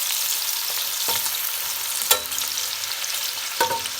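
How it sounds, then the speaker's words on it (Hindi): Onions fry in cooking oil with a dense, steady sizzle close by, punctuated by a few sharp knocks and scrapes of a utensil stirring the pan. "प्याज को थोड़ा सा हम इसमें कुकिंग ऑयल में पकाएंगे,"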